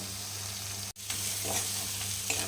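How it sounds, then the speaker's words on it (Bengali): Spice masala for cholar ghugni sizzles and fries in oil as it is stirred, a steady close crackle with one brief scrape-like break partway through. "একটু মশলাটা কষিয়ে নিতে হবে ভালোভাবে।"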